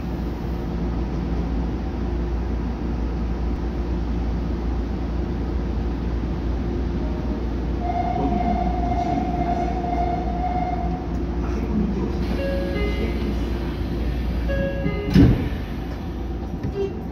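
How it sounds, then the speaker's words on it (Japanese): A Nagoya Tsurumai Line subway train runs between Kamimaezu and Tsurumai with a steady, loud rumble and rail noise, a brief whine rising partway through and a sharp clank near the end. "この電車は五木曽大和方面豊田市行きです。"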